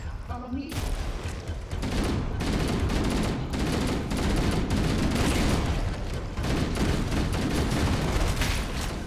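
Dense, continuous gunfire and explosive blasts from a shotgun firing exploding rounds in Halo: Combat Evolved Anniversary, loud and close with overlapping shots throughout.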